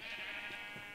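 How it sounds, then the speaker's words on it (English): A sheep bleats in a video game set on a sheep farm in a Middle-earth build, one sustained, wavering bleat that carries across the whole second at moderate loudness with no talking over it. "Look at this sheep."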